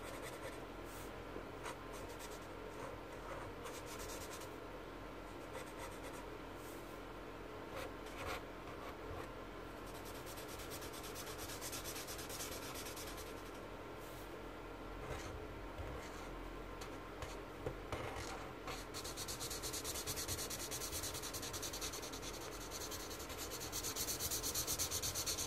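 A pencil sketches semicircles on paper in soft, close scratching strokes that repeat in a steady rhythm, quiet and alone with no talking.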